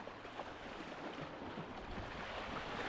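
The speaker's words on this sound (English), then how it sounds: "Those waves are wild." Waves on the Baltic Sea at Oxnö in Haninge wash and churn steadily, a soft continuous rumble of surf mixed with wind buffeting the microphone, with no talking.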